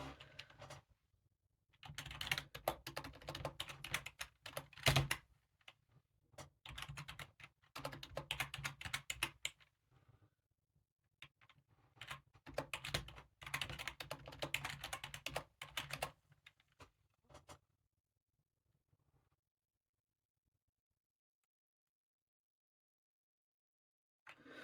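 Commands are typed on a computer keyboard during an Arch Linux install, close-up bursts of rapid key clicks separated by short pauses, thinning out to near silence at the end.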